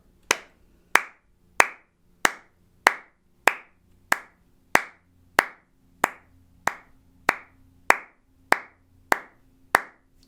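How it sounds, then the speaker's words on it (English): Sharp hand claps land one per beat, sixteen evenly spaced strikes at a steady tempo, close and crisp with nothing else in between. "let's both clap this just the one time because it's just on the beat every time"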